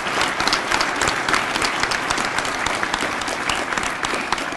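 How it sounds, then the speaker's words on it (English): Sustained, steady applause from a room full of people at a high school football banquet, dense clapping lasting throughout without pause. "Please give them a round of applause."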